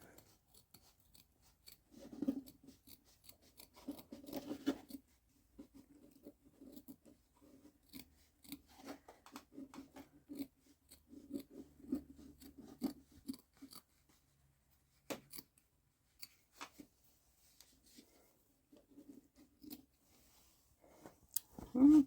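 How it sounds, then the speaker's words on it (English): Embroidery scissors snipping fabric at a machine embroidery setup, a run of close, crisp cuts in irregular bursts, with quieter gaps and a louder snip at the end. "let's just see how it works using my embroidery scissors"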